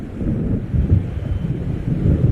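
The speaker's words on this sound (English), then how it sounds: "It seems there's a storm coming." Low rumbling thunder from an approaching storm over the waves in the Alan Wake video game, a heavy, continuous roll that swells and ebbs like wind-driven noise, close and loud.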